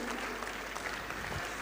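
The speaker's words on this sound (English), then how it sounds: "I'm sure you can clap louder" Applause from parents in an audience at a school acknowledgements and felicitation ceremony, a steady, moderately distant wash of clapping through the whole short stretch.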